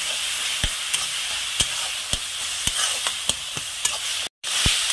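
Sliced mushrooms, home-grown on a rooftop without fertilizer and seasoned with salt, stirred in a pan: a steady soft sizzle with about a dozen sharp spatula knocks against the metal at an uneven, unhurried pace, close up and without talk.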